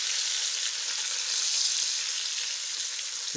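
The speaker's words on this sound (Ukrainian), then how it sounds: "І буду жаритися зараз до готовності." Ukrainian buckwheat patties, hrechanyky, sizzle in a frying pan with a steady, close, bright crackling hiss and no talk.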